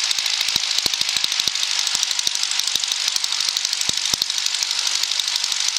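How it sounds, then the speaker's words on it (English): Cessna trainer cockpit during taxi with the wing flaps retracted to zero: a steady loud mechanical whine carries throughout, broken by rapid irregular clicks and ticks, with no talk. "Now pull the flaps up, all the way up to zero."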